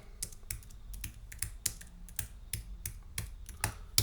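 Computer keyboard keys clack in quick irregular bursts as notes are typed nearby, crisp distinct taps with short pauses between, alone without talk.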